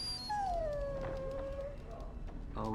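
A dog in the video game Dragon Age: Origins gives a single drawn-out whimpering howl that slides downward, close and clear over a steady background murmur, then falls quiet.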